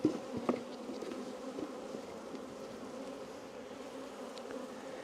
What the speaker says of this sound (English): I do love going in and seeing bees when they're like freshly drawing stuff out